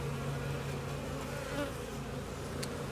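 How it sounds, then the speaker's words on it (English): Honeybees buzzing around a hive, a continuous close, fairly quiet hum with steady tones and no talking. "Jordan's bees."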